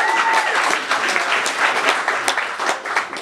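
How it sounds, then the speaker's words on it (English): A crowd at a launch party breaks into sustained, lively applause, many hands clapping together in a thick, close wash that holds for the whole stretch. "Big round of applause for that."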